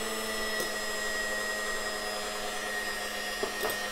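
An electric mixer runs steadily as sugar is beaten into a dacquoise meringue, giving a continuous whirring motor drone at even loudness with a couple of faint clicks near the end and no talk.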